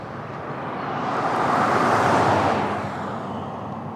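A car passes along a residential street, its broad road noise swelling to a peak midway and then fading as it drives off, heard alone without talk.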